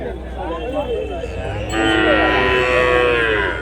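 A Punganur bull lows loudly and close, a long drawn-out bellow that swells partway through and carries to the end.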